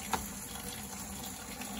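Water runs in a steady, soft wash over a sharpening stone used for flattening jointer blades, a faint continuous trickle with one brief tap near the start.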